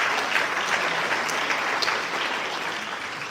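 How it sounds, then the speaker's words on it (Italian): Audience applause for food heroes at a World Food Day event, a steady, dense clapping from a crowd throughout. "A big round of applause for our food heroes."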